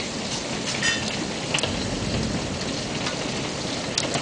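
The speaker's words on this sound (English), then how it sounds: "a little thunder in the background." Heavy rain pours down in a dense, steady hiss, with faint low rumbles of thunder in the background and no voices.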